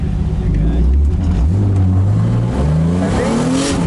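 Turbocharged BMW E36 drift car with an S52 engine revving hard, its loud, rising engine note climbing and holding through several pulls, with people talking over it throughout.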